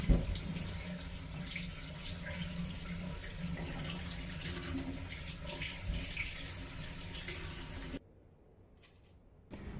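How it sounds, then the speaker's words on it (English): Tap water runs steadily into a kitchen sink as raw chicken is rinsed for soup, a loud continuous splashing rush that stops abruptly near the end, leaving near silence. "Wash the chicken under running water so that the final soup will look clean"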